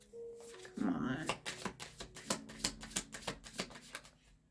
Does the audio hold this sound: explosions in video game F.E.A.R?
no